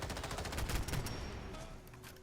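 Rapid automatic fire from an MSBS Grot B rifle in Fallout 4, a dense burst of sharp shots up front that thins out and trails off toward the end, with no voices over it.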